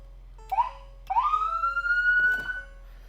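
A park police emergency vehicle siren gives two short rising whoops, then a longer wail that swells and fades, loud and close with nothing else around it.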